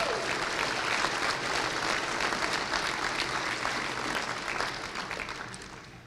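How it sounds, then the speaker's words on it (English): A convocation audience applauds a jazz ensemble of guitar, bass, trumpet and drums with sustained, dense clapping from many hands, fading slightly toward the end. "Let's give them a round of applause."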